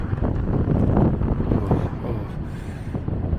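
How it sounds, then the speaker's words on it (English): Steady wind buffets the microphone with a low, rumbling roar that barely lets up, like standing exposed on a gusty bridge crossing. "And it's a little windy."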